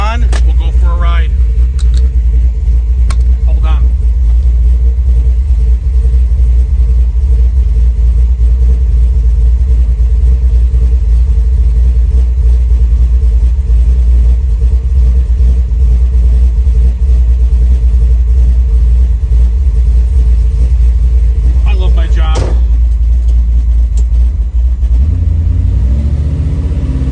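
A 1972 Chevrolet Chevelle with a 496 engine rumbles steadily and loudly as it drives, with a deep continuous low-end drone and brief higher bursts as it revs, the engine running throughout.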